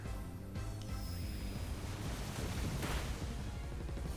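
A Waterfall attack sound effect from a Pokémon video game: a loud, dense rushing-water roar that fills the whole stretch, with a brief whooshing surge near the end and no talk.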